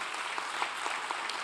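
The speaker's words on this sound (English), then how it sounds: "Governor Shinji Hirai and Governor Tizo Mikazuki from Japan. Give them a round of applause, please." Brief burst of audience applause at a governors' conference plenary session, a dense even patter of many hands clapping in a large hall, moderately distant and with no voice over it.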